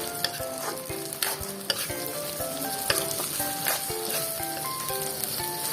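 Filipino-style corned beef fries in a pan with a bright constant sizzle, punctuated by repeated close scraping and clattering of a utensil as it is stirred, with no talking.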